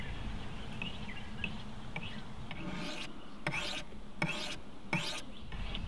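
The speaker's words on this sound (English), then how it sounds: "I might just sharpen it on the window." Knife blade being sharpened by rubbing it across window glass, four or five short gritty strokes with pauses between, faint against a quiet outdoor background with occasional bird chirps.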